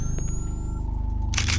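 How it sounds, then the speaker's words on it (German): Camera flash firing in the horror video game Cry of Fear inside a dark house, a burst of bright crackling noise near the end over a steady low droning ambience, with no talking. "wenn dieser Blitz dieser Kamera aufleuchtet"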